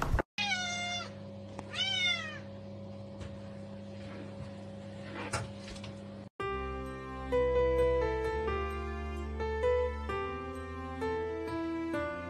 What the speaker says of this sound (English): Got yourself a cat.